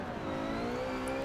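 Lotus Elise GT12 race car engine in Forza Motorsport 7, a steady, loud high-revving whine climbing in pitch as it accelerates at Brands Hatch, with no voices.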